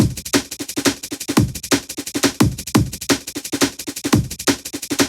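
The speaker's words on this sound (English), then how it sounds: "So the chopped up almond break sounds like this." A chopped-up amen drum break for a liquid drum and bass track, rapid crisp snares and kicks in a busy syncopated pattern, loud and close throughout with no voices.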